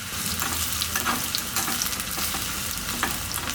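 Crushed garlic frying in oil for arai keerai sambar, a continuous close crackling sizzle with faint stirring, steady and fairly quiet, with no talking.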